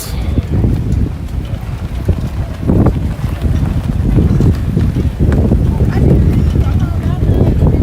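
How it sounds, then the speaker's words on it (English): Strong gusting wind buffets the microphone at the outdoor flea market of the Hamvention 2025 amateur radio fair, with heavy low rumbling throughout, loud and continuous, with faint voices partly buried underneath. "If you hear any wind noise, yeah, it's very, very windy."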